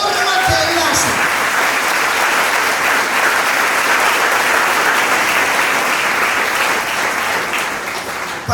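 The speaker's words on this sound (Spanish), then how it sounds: "Démosle un aplauso al Señor." Church congregation applauding during a pastor's sermon at a conference, a dense, loud, sustained round of clapping from a large crowd, fading slightly near the end.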